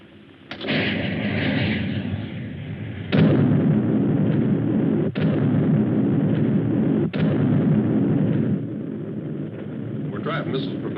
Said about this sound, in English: Fire again. Again and again. Nothing can stand against Trotanic missiles.